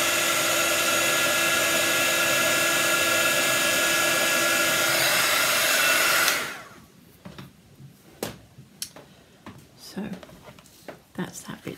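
A heat tool melts embossing powder on a stamped craft piece, its loud steady blowing roar lasting about six seconds before switching off, followed by faint handling noises.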